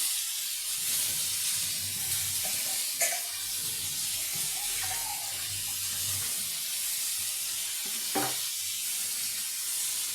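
Pumpkin slices fry slowly in an uncovered pan over low gas heat, giving a steady close sizzle and hiss that runs throughout, with a few faint clinks and no talking.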